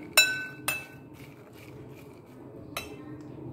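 A few sharp clinks of a spoon against a bowl while boiled black-eyed peas are stirred, with quiet gaps between the hits.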